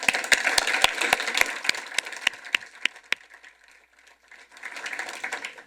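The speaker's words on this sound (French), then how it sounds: "Accordons-leur nos applaudissements." At a press conference about a new building, scattered claps ring out sharply at first, thin out into a near-silent gap, then rise again as a softer patter of applause.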